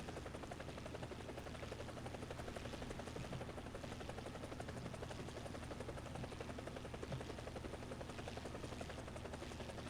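Helicopter in War Thunder, its rotor thumping as a steady, even drone for the whole stretch, with no talk over it.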